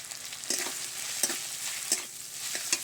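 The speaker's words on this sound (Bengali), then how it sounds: "আদা রসুনটা দিয়ে আমি আবার একটু নেড়ে চেড়ে নিচ্ছি" Garlic, ginger and carrot stir-fry in a pan for chow mein. A quiet, steady sizzle is broken by four evenly spaced scrapes and clinks of a spatula, with no talking.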